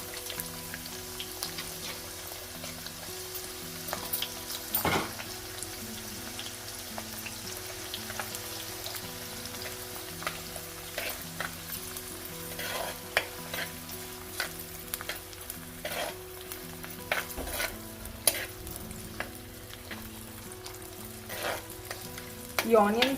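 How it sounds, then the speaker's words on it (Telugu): Onions fry in a pan with mustard seeds and cumin, giving a steady sizzle with scattered crackles and occasional scraping stirs, close and moderately loud throughout with no talking. "ఈ ఆనియన్స్ కొంచెం బ్రౌనిష్ కలర్ వచ్చేదాకా ఫ్రై చేసుకోండి"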